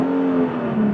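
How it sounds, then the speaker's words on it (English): An Infiniti G37 with an upgraded clutch and flywheel revs briefly, a short, loud, steady engine note held up close with no talk. "let me give you a little rev and, kind of give you an idea of how that sounds"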